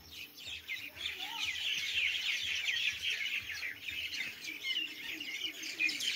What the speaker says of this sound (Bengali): এই গাছে অসংখ্য পাখি।